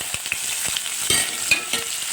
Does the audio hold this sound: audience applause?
no